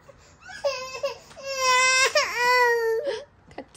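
A young child cries close by, with rising wails and whimpers that swell into two long sobbing cries and then trail off into short sniffles.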